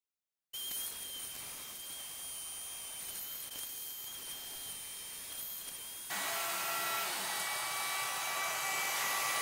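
An air compressor runs steadily for a Two Trees TS2 10W laser cutter, a loud continuous whir with a faint high whine that jumps to a harsher, louder roar partway through.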